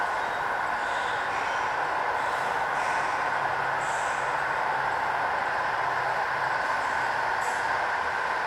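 A model train rumbles steadily along its track, a constant whirring hum with faint clicks, running unbroken and fairly close.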